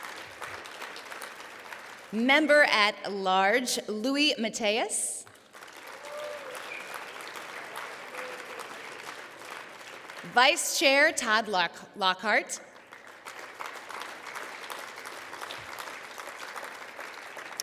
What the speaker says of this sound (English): So let's give a round of applause for Pat.